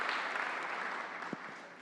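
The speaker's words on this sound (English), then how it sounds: "let's give her a round of applause." Soft, diffuse applause from an audience at a forum event, a steady wash of clapping heard from a distance and fading slightly, with one brief thump near the end.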